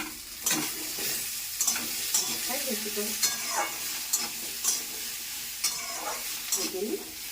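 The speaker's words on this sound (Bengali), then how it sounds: "ওগুলো একটুখানি উচ্ছে আর পেঁয়াজটা ভেজে তারপর আলুটা দিলে" Bitter gourd, onion and potatoes fry in a pan with a steady close sizzle, broken by repeated scraping stirs of a spatula at an irregular rhythm; no one speaks.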